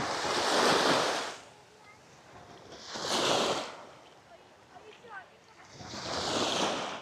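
Sea waves wash onto an island beach on Camotes Island in three broad surges that swell and recede, with steady wind noise in between.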